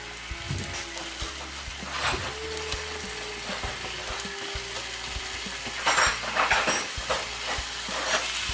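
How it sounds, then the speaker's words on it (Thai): Vegetables sizzle and crackle in a hot wok while a utensil scrapes and stirs in uneven strokes, clanking against the pan now and then. "เราจะเอาพักลงไปพัดนะคะ"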